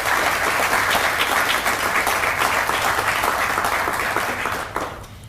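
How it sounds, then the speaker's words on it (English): A crowd at a teacher awards ceremony applauds steadily for several seconds, the clapping fading out toward the end. "And please give them a round of applause."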